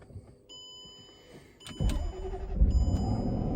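A supercharged Range Rover engine cranks and catches at close range, a sharp starter burst followed by a loud, steady idle rumble after an earlier electric whine.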